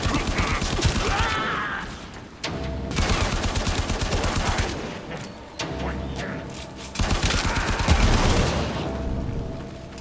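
Machine gun bursts fired in the Warframe video game, rapid rattling volleys that stop and restart over ten seconds, with heavy booming thuds in places, loud and close.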